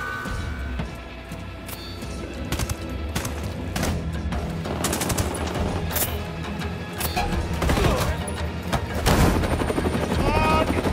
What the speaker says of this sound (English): Get in the helicopter right now, Cheney!